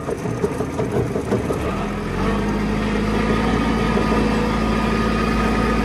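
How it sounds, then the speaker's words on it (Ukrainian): The engine of a Kubota GT-5 mini tractor runs steadily while the tractor drives off, a constant close mid-pitched chug with no talking. "Забираємо ногу, тракторець їде."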